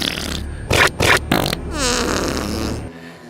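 Several short, loud fart-like blasts fire in quick succession, followed by a longer, drawn-out sputtering raspberry that fades away, heard alone without speech.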